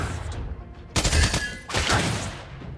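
Clint's basic attack gunfire in the mobile game Mobile Legends sounds as two short, punchy bursts of shots over busy in-game background effects.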